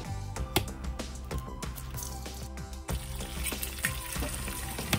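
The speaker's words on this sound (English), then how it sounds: "go ahead and fry an egg." An egg frying in a pan alongside fried avocado, a steady close sizzle and crackle of hot oil with small pops throughout, no talk.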